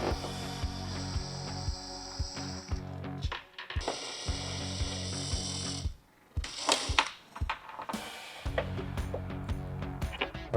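Ratcheting on headlight bolts of a 2023.5-or-later Harley-Davidson Road Glide, likely with a T27 Torx bit: repeated close pawl clicks in bursts, with brief pauses and metallic handling between runs.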